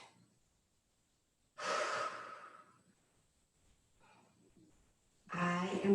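Slow breathing during a yoga practice in stillness pose, with two long airy breaths, roughly two seconds and one second long, separated by a quiet pause, heard close and alone.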